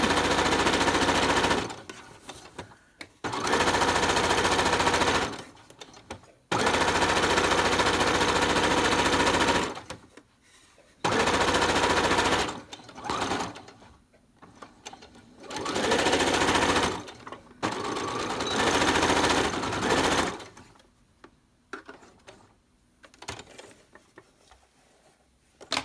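A sewing machine stitches a ribbon skirt seam in long continuous bursts with short pauses between runs, a steady loud mechanical whir close by with no talking.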